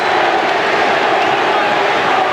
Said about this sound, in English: Crowd trying to urge on the Boston Celtics that they've done so many times in the annals of the NBA